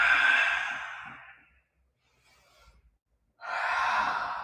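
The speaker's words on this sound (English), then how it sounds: "Keep breathing." Deep breaths during a Rocket Yoga-inspired all-levels class: a long, breathy exhale, a quiet pause, then another strong airy breath beginning, close and clear with no talking.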